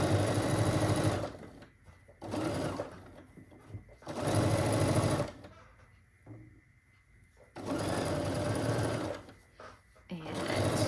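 A sewing machine runs in bursts while stitching quilt blocks together, a loud steady whirring hum lasting a second or two each time, separated by quieter pauses with soft handling noises.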